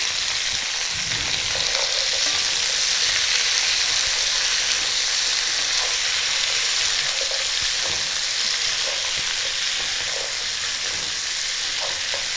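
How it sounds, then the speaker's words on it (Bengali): Cauliflower, potato, beans, tomato and peas stir-frying in a wok, a steady loud sizzle throughout with faint scraping strokes of the spatula, no talking. "খুব ভালো করে নাড়িয়ে চাড়িয়ে দিচ্ছি।"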